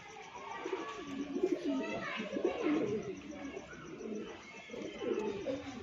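Pigeons coo in low, repeated soft phrases, close by and steady throughout, with a little faint chirping in the background.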